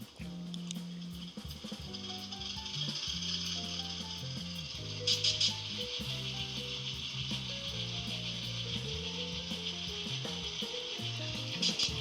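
A model locomotive sound decoder set to an EMD 567 non-turbo diesel engine rumbles, low notes stepping up and down as it idles, with a steady hiss over it.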